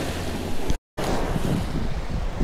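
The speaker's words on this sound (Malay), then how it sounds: "Angin sejuk." Cold wind blowing steadily across the seashore at Teluk Kerang, Pontian, Johor, with surf washing in, a loud continuous rush broken by a brief dropout near the middle.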